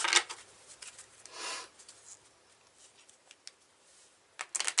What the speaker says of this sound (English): I'm going to be shuffling as we go.